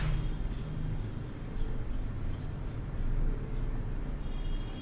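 Chalk or marker writing on a board during a Hindi grammar lesson: a few short scratchy strokes in bursts over a steady noisy room hum, with no speech.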